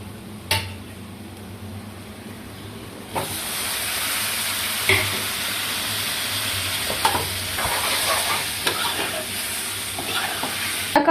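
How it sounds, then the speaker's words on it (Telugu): Tomatoes added to softened onions frying in a pan for egg tomato curry, a quiet hiss swelling into a loud steady sizzle with steam and repeated utensil scrapes and knocks as they are stirred. "ఇప్పుడు టమాటాలు మగ్గడానికి వేసుకున్నాం"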